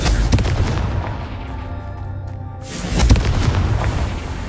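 Confringo fire spell blasts in the video game Hogwarts Legacy, a loud deep boom followed by rumbling, with a second burst near the end.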